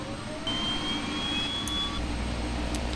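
A BA-609 tiltrotor turbine engine spooling up in the flight simulator FSX, with a steady loud whine and rising tones over a deep, constant rumble that grows heavier partway through.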